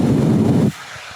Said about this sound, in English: let's hit this grip tape with the blow dryer and loosen it up so we can take it off in one piece